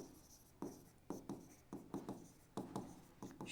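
Chalk or marker writing on a board during a physics lesson, a series of short scratchy strokes in uneven bursts, quiet and close, with no talk over them.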